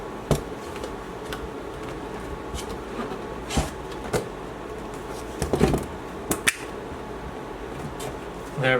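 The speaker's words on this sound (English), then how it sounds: "It is supposed to make that clicking sound." Plastic parts of a stackable shoe storage container snap into place, producing several sharp, close clicks scattered irregularly over a quiet room background.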